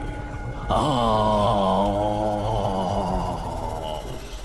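Cartoon effect of a tantric holy man's painful scream: one loud, drawn-out wailing cry that bursts in suddenly and wavers in pitch for several seconds before slowly fading.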